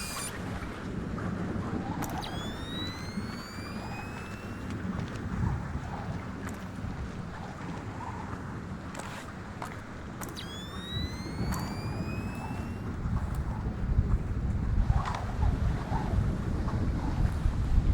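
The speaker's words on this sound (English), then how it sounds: "Thunderstorms make me nervous" Thunderstorm at a lighthouse in Splinter Cell: Chaos Theory, steady rushing wind and rain noise with occasional low rumbles and distant cracks, plus whistling tones over the storm bed.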